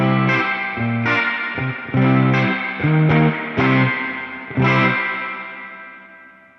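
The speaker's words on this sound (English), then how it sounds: "now here's the 63 Spring Reverb Convolution at default" Electric guitar through a Fender Tone Master Pro's 63 Spring Reverb Convolution at default settings, about seven plucked notes and chords in a loose phrase, each ringing out into a rich, lingering spring-reverb tail.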